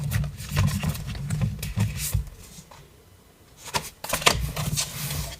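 Tarot cards being shuffled and drawn, with bursts of rapid riffling flutter and crisp card snaps, a quieter pause midway, then more shuffling.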